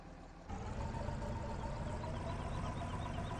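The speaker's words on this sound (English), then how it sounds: "God, that tractor just keeps going, doesn't it?" A tractor engine drones steadily in Farming Simulator 15, starting up suddenly and then holding a constant, rumbling running sound that stays loud and unbroken.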